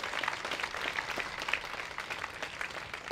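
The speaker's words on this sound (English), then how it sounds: "join me in giving them a big round of applause for their commitment to this project" Applause from an audience at an outdoor groundbreaking ceremony for Block 9 in downtown Fargo, a dense, steady patter of many hands clapping throughout, with a few sharper claps standing out.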